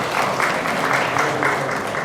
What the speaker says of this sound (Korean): 아무튼 우리 교수님 위해서 박수 한번 더 쳐주셨습니다